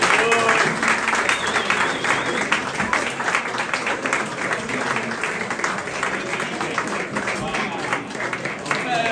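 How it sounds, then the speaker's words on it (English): Applause from an awards-night audience as a player is called up: dense, sustained clapping from a roomful of people, loud and steady for the whole stretch, with some voices mixed in. "Round of applause for George."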